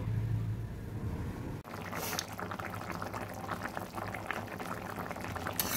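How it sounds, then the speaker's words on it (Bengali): Pea and potato ghugni boils in a pan, a steady close bubbling and gurgling that runs throughout after a brief pause, with no talk. "এবার সিদ্ধ হতে দেব।"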